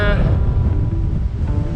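Strong wind buffets the microphone in a continuous low rumble, gusting loudly throughout with no clear voices, on a walking trail between Bucknell and Knighton near the Offa's Dyke path.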